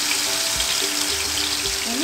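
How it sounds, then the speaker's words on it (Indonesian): Spice paste of shallots, garlic, turmeric, ginger and candlenut frying in hot oil, a loud steady sizzle with a few low knocks of stirring and a faint tonal hum in the background. "Kita akan tumis bumbunya Bunda."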